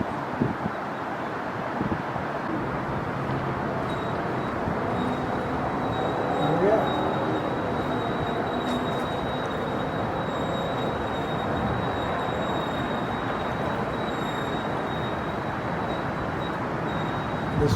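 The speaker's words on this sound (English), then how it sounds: "now training the Mark 38 Director with the trainer's hand wheels" The Mark 38 fire control director aboard the WWII battleship USS Massachusetts is turned by the trainer's hand wheels, giving a continuous mechanical rumble with a thin, steady high whine throughout.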